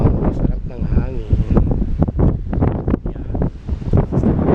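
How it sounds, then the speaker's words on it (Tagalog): Wind buffets the microphone during a road trip from Pangasinan to Manila, a steady rushing roar under almost constant talking. "Masarap ng hangin."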